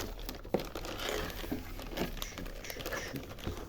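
A thin protective plastic bag around a computer motherboard, a MACHINIST X99-MR9S, crinkles and rustles softly and continuously at close range as it is opened.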